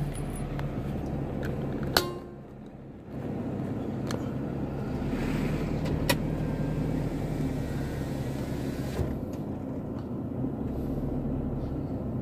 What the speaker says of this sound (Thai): พยายามขับรถวนรอบๆให้ทุกคนได้ดูนะครับผม